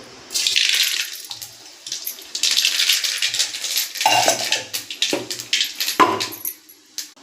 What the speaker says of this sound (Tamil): எண்ணெயை நல்லா காய வச்சாச்சு. இப்போ கடுகு போட்டுக்கலாம்.